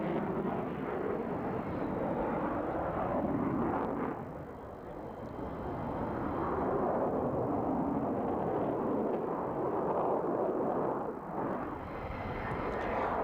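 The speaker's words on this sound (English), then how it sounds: "2 solo displays by the F-16 Fighting Falcon. This one is from the Belgian Air Force." A Belgian Air Force F-16 Fighting Falcon jet in a solo airshow display, its engine roar loud and continuous, dipping briefly and then surging again as it passes, with no voices.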